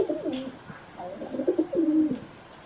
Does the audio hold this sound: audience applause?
no